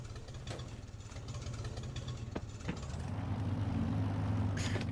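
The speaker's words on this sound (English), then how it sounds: "let's get the auger out, the blower" Farming Simulator 25 auger and blower engine running, a medium mechanical drone with a few sharp clanks that swells louder and rougher partway through, then holds steady with a high whine near the end.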